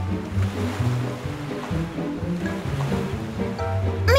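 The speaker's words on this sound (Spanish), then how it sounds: "¡Por eso las olas son tan violentas!" Violent sea waves in a cartoon, a continuous loud surging wash of water with rolling swells, layered with tonal background music and no voices.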